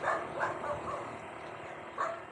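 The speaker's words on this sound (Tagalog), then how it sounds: "Matapag ang aso." A dog barks a few times at a distance, short faint yaps spaced unevenly over a noisy outdoor background.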